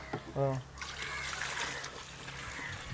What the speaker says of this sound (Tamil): இதுக்கு தண்ணியை ஊற்றணும்.